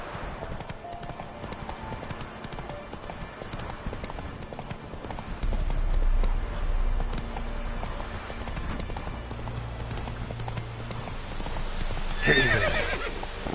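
Roach, the horse in The Witcher 3, gallops with quick rhythmic hoofbeats and whinnies, close and steady, with a louder low rumble joining partway through.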